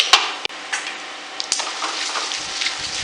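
Turmeric and spices sizzling in hot oil, a soft steady crackle broken by a few sharp taps and clinks from a spoon or pan, with a low rumble near the end.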